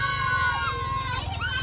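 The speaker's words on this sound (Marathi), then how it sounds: "आता आम्ही चाललेलो आहोत देवी आणायला आणि बारीक मुलांचा जल्लोष बघू शकता तुम्ही" Small children shouting and cheering in a festive procession to bring home a goddess idol, a busy mix of high excited voices and squeals, moderately close, over a low steady background rumble.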